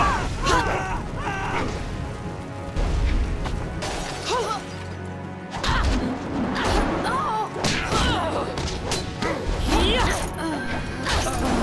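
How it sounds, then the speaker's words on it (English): Chaotic battle in the video game Jade Empire, with heavy cannon-fire booms, crashes and thuds piling up continuously, overlaid with shouting voices and clanging mechanical noise. "Cannon fire, look out!"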